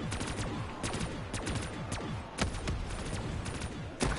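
Dense automatic gunfire in the Call of Duty Black Ops 3 Zombies game, a loud, relentless stream of rapid shots with slight surges, no pauses and no voices over it.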